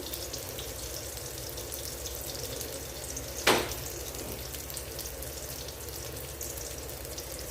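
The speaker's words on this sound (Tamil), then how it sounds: "இங்கே எண்ணெய் காய வச்சுருக்கேன் ரவுண்டாக இருக்கிற பொருளங்காய் சிப்ஸை பொரிச்சு எடுத்துருவோம்" Round slices of snake gourd frying in hot oil, a quiet, steady bubbling sizzle with one sharp spike of spatter about halfway through, and no talking.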